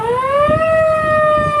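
A Chinputong fire truck siren wails loud and close in a single sustained rising tone that levels off, with a crowd murmuring faintly beneath.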